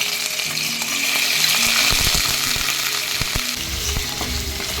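Boiled chicken pieces frying lightly in white oil in a pan, a loud continuous sizzle broken by several clattering stirs partway through.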